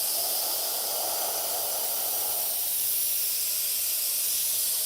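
Soft, steady hiss of an airbrush spraying paint lightly for shading on a 1960 El Camino, close and continuous, with no talking.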